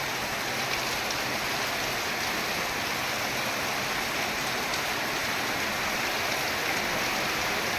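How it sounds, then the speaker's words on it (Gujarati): Heavy rain pours down in a constant, dense hiss, steady and unbroken throughout with no voices. "બહુ વરસાદ પડ્યો."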